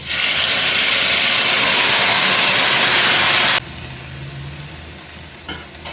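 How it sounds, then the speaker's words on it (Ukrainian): Loud, dense sizzling and hissing from frying cabbage cuts off sharply as potato broth is poured into the pan, leaving a quieter simmering hiss and a brief clink. "Через півхвилини наливаю відвар від картоплі."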